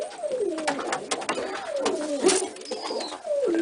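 Pigeons in a loft give repeated soft, gliding coos one after another, some overlapping, close by against a quiet background with light shuffling.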